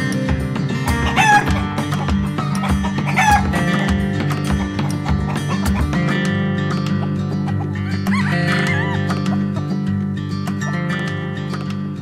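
A crowd of chickens clucks busily and a rooster crows several times, loud and close, with steady clucking layered throughout and other animal noises mixed in.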